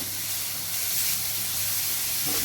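Vegetables for a momo filling tossed in a pan over a high gas flame, giving a steady broad hiss of frying with a low hum beneath, continuous and fairly close for a couple of seconds.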